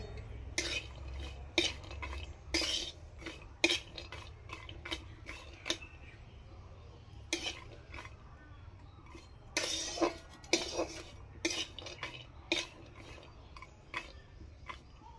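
Nuts roasted in a pan while being stirred, producing a series of sharp, irregular scrapes and clinks of a spoon against the pan, close and fairly quiet, with a low background hum and no talk.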